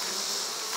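Honey bees buzzing at an open hive during an Apiguard mite treatment, a short dense hum of many wings close by.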